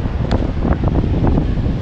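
Strong wind buffets the microphone at the seashore in bad weather, with big waves crashing and roaring close by in a continuous loud rush.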